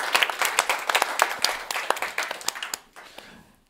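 An audience at the ESS/Max IV Summit 2022 bursts into lively applause, dense overlapping hand claps close and loud for about three seconds before quickly dying away to silence.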